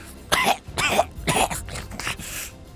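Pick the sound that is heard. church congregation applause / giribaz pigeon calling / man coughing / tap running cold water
man coughing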